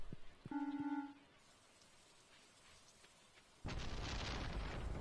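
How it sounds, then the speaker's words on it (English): Rain in the Stardew Valley video game: after a brief tonal chime and a few seconds of near quiet, a steady, loud hiss of rainfall suddenly sets in and continues. "It's raining again."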